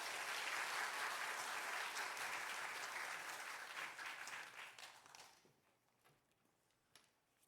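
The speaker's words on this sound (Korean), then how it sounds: "박수로 모시도록 하겠습니다." A church congregation applauds as a pastor is welcomed to the pulpit, a loud, dense round of clapping that holds for several seconds, then thins and fades away, leaving a few scattered claps.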